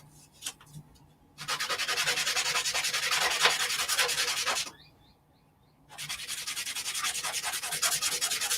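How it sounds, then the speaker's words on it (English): Sandpaper rubs by hand over the end of a small object, two long gritty bursts of steady back-and-forth sanding separated by a short pause, preceded by a few light taps. "I'm just sanding, cleaning up that end bit there."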